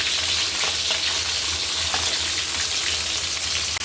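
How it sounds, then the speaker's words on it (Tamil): Onions and garlic sauté in a pan with curry leaves, a continuous dense frying hiss at steady loudness with light stirring scrapes throughout. "எல்லாத்தையும் போட்டு நல்லா வதங்கட்டும். வெங்காயம் பூண்டும் நல்லா வதங்கிடுச்சு"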